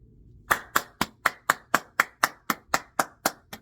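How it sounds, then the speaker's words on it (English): A pair of hands claps about a dozen times in a steady, even rhythm. The claps are close and sharp against a quiet room. "I'm clapping because you're going to get exactly what you want."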